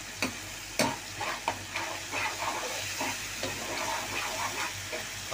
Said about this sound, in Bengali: মশলা একটু কষাই নিয়ে